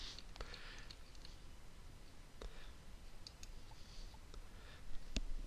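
A computer mouse gives a few sparse, faint, crisp clicks over a quiet background hiss, with no talking.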